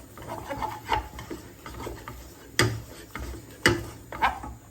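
A flour and milk sauce is worked in a pan with a utensil that scrapes and rubs in a steady stirring rhythm, and a few sharper knocks stand out against the pan side, close and moderately quiet.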